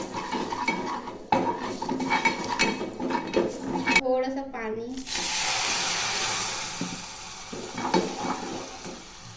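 A spoon scrapes and clinks against a cooking pot as spices like coriander-cumin powder and chili masala are stirred over low heat, with light sizzling and a brief hiss midway.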